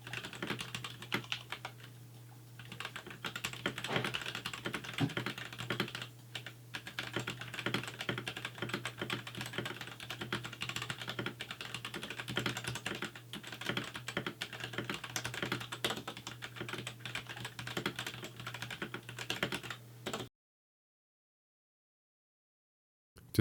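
Stock-switch RK84 Pro mechanical keyboard typed on in a steady, fast stream of clacky keystrokes over a low background hum, close and fairly quiet, then cutting to silence.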